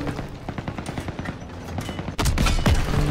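Rapid bursts of gunfire in a World War II video game, a dense stream of sharp shots that grows louder and heavier partway through, with booming impacts layered over the firing.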